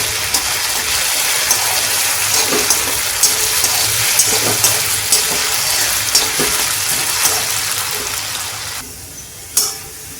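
Flattened rice (poha, avalakki) fries in a pan until golden brown, a loud continuous sizzle and crackle with occasional stirring scrapes, steady throughout before dropping away near the end.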